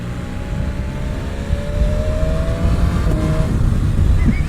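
A 2018 BMW S1000 RR sport motorcycle accelerating hard with its quick shifter, engine roaring loud and steady under wind rush, pitch climbing and briefly dropping at seamless gear changes.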